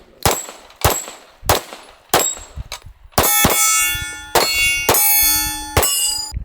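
Pistol shots from a Springfield 1911 DS Prodigy or Staccato XC ring off a steel target, a rapid string of loud cracks that turn into bright, sustained metallic clangs and dings once the steel is struck.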